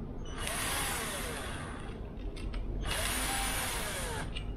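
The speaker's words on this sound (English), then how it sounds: "we will proceed to remove them with a screwdriver or electronic screwdriver" A power screwdriver whirs while backing out the bolts on a Jeep JL Wrangler battery mount, two loud sustained runs with a short break between them, near and without talk.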